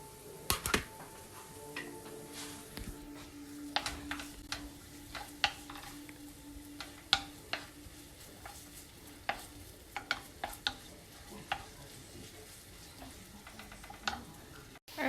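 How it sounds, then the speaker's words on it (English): Onions sizzle steadily in a hot frying pan while sautéing, a soft continuous crackle dotted with sharp clicks and taps of utensils scattered throughout. "You hear that sizzle?"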